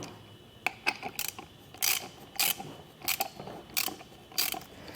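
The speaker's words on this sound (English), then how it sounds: "we're going to grab our 9/16 socket and wrench and tighten that down the rest of the way" A 9/16 socket ratchet tightening a bolt while fitting SumoSprings helper springs on a 2024 Chevrolet, with repeated clicking pawl bursts in an uneven rhythm of about eight strokes, close and clear, no talk.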